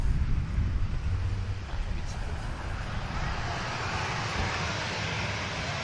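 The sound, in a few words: TUI passenger airliner passing at airport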